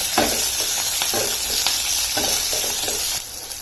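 Green chillies, garlic, ginger, curry leaves and onion sizzle in a hot oil tempering for thanni chutney, a steady loud frying hiss with repeated scraping stir strokes, no voices.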